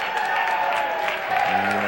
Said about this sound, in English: And a Bronx cheer from the Pitman faithful.